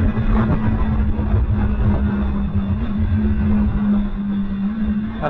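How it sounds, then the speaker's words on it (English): A 2010 BMW S1000RR motorcycle with an auto shifter runs hard on a track, its engine giving a loud, steady high-pitched drone with wind noise throughout. "Such a neat sound, the auto shifter."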